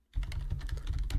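Password typed on a computer keyboard while logging into an SSH session, a quick run of close, crisp key clicks at a steady pace after a brief silence.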